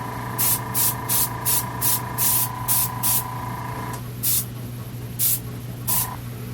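Repeated short bursts of hissing spray as a cream base coat is airbrushed onto a Michael Myers mask, about a dozen evenly spaced puffs over a steady compressor hum.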